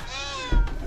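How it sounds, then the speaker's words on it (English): An angry farm cat lets out one loud, close, drawn-out harmonic meow, followed by a brief thump and a fainter trailing cry. "Angry kitty."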